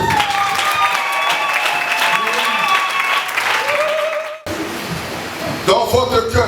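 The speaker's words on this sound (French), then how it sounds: "Acclamons très fort." Wedding guests applauding during a church ceremony, a steady wash of clapping and crowd noise that breaks off briefly before a fresh burst at the end, with voices mixed in.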